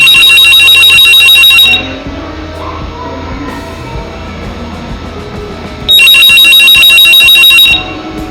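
Analog telephone ringer bell played through an amplifier, two loud bursts of rapid metallic ringing about two seconds each with a pause between, over steady background hum.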